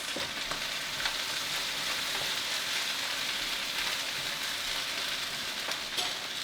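Pork chops brown in a frying pan with a constant, close, crackling sizzle like steady rain, occasionally punctuated by small pops and clicks, alone with no talking.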